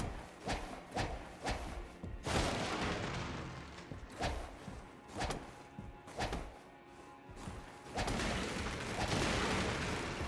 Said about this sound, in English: Follow up with an additional input to bring down the armament, triggering an explosion.